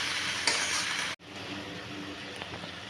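Aloo gobi with salt and spices is stirred in a pan, giving a soft, continuous sizzle with scraping strokes and a brief break in the middle.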